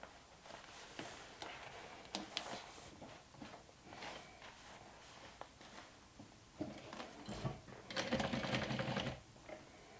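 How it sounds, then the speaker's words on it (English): Sewing machine top-stitching through a thick layered panel of a glow-in-the-dark backpack, held with clips, giving bursts of rapid mechanical clatter with brief pauses and a louder stitching run near the end. "stitch this down, top stitch"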